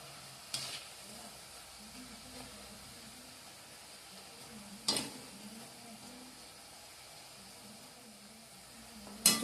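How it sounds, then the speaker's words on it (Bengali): Homemade kata nimki, flour snacks, deep-frying: a soft, even sizzle in the background, punctuated by three sharp utensil clinks spaced several seconds apart, with no talking. "এখন ভেজে নেওয়া হচ্ছে কাটা নিমকি"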